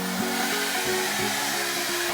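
A hair dryer powered by a BLUETTI AC70 power station blows steadily with a loud, continuous broadband whoosh and a fluttering motor hum, heard close up without talk.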